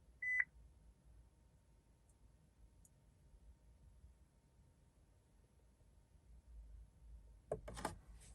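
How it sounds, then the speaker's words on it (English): A 2009 Volvo XC90 dashboard gives one short, clear electronic beep after an oil life reset. Near silence follows, then a few soft clicks and a brief rustle close by. "Once we hear a beep, it should be good."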